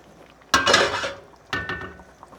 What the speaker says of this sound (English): we're just going to let this simmer for a little bit while longer